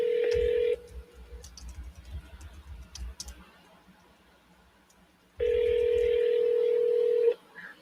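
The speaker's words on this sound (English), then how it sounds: "we're going to double dial him real quick" Telephone dialing tones on a call to a motivated seller: two long steady tones, one at the start and one near the end, with quieter line noise and faint clicks between them.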